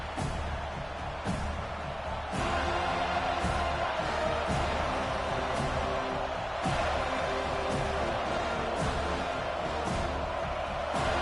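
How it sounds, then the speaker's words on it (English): A stadium crowd at a college football game roars steadily as the defense lines up on third down, a loud, dense wash of cheering that swells slightly and holds for the whole stretch. "Decibels rising as the crowd gets behind this defense on third down."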